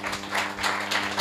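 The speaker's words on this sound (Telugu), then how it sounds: "గట్టిగా చప్పట్లు కొట్టండి" A church congregation clapping loudly together in a dense, sustained burst of applause with no talk over it.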